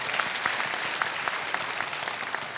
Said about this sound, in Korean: 우리 서로에게 격려의 박수 한번 하도록 하겠습니다